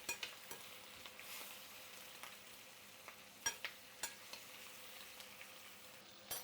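Pheasant roasting in a pan with butter, bay leaf and thyme: a faint, steady sizzle carries through, broken by light clicks and taps of stirring at irregular intervals.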